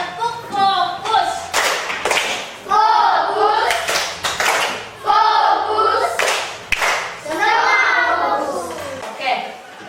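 Schoolchildren in a fourth-grade classroom perform a rhythmic class clap routine, quick bursts of sharp hand claps in patterned sets, mixed with children chanting and a teacher's voice.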